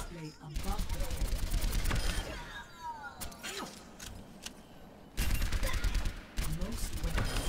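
Gunfire at training bots in Overwatch: dense rapid automatic bursts in two stretches separated by a lull of clicks and mechanical whirring, loud and close, with a voice talking over part of it.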